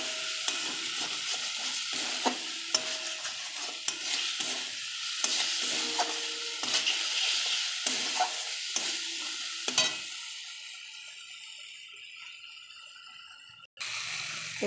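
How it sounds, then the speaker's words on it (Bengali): Spice paste with salt and turmeric sizzles and is stirred in a pan, with frequent close scrapes and knocks for about ten seconds, then the frying dies down to a quieter hiss with no talking. "এবার মশলাটা আমি ভালো করে কষিয়ে নেব।"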